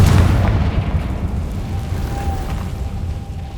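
A Confringo fire spell explodes in Hogwarts Legacy, a loud boom at the start whose fiery rumble slowly fades over a few seconds, with no voices.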